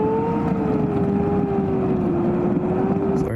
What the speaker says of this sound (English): the car is a little bit loud